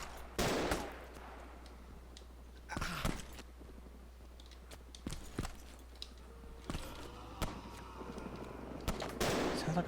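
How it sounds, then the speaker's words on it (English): Gunfire in Arma 2 DayZ: a few separate sharp shots and short bursts spread across the span, some loud and close, others fainter, over a steady low background hum with no talking. "Definitely hear a bunch of shooting."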